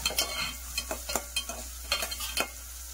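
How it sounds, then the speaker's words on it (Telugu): Onions frying in a pan while being stirred: a soft continuous sizzle broken by repeated scraping strokes of a spoon in an irregular rhythm, close and fairly quiet. "ఉల్లిపాయలు కొద్దిగా ఫ్రై అవ్వాలండి, బాగా ఫ్రై అవ్వాలి."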